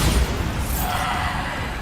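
The Bombarda spell explodes in the video game Hogwarts Legacy with a loud, dense blast of roaring noise that stays sustained and heavy throughout the short moment.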